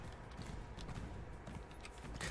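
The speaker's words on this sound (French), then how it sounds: "Le cheval, tu sais, qui est au pas" A horse walks at a slow pace in the video game The Elder Scrolls Online (TESO), with soft, steady hoof clip-clops and faint creaks of tack under a low ambient bed.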